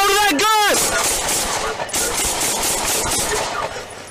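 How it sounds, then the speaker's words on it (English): Rapid gunshots from a police officer's weapon crack out at close range, a quick burst of several sharp reports in the first second over loud, noisy radio-like background that continues afterward. "Shots fired. 42 Basin, shots fired, shots fired."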